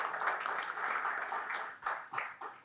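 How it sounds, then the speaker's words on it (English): Conference audience applauding a higher education leaders panel, many hands clapping in a steady, moderately quiet wash that thins into a few scattered claps near the end. "A great round of applause for the esteemed members of the panel"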